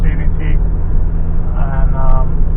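A Mitsubishi Outlander with a 2.4 engine and CVT hauls a heavy 5x9 trailer, its steady engine and road drone heard from inside the cabin under continuous talking.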